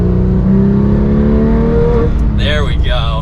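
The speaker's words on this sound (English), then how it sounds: "let's get that exhaust on" A 991.2 Porsche 911 GT3 with manual gearbox drones loudly with its exhaust open, a steady engine note that swells in two quick revs near the end, with a person talking over it.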